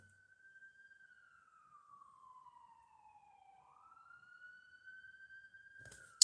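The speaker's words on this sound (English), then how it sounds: "You hear that, police? Or ambulance?" A single siren from a police car or ambulance wails slowly down and back up in pitch, faint and distant, heard alone in an otherwise quiet setting.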